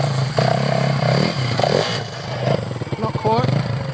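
A Yamaha WR450F dirt bike runs in third gear, its engine note holding steady with slight pitch changes and mechanical clatter, while a voice talks over the top.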